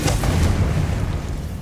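A Confringo blasting spell in the game Hogwarts Legacy lands as a deep, booming burst that rolls into a low, rumbling decay, loud and close with no one talking.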